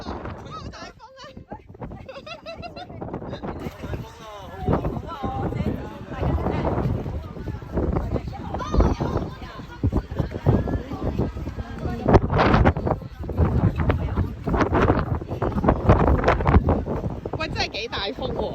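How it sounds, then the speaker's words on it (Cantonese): Strong wind buffets the microphone outdoors near a hotel pool in Zhuhai, with gusty rumbling rising and falling while people talk loudly over it. "真係幾大風喎"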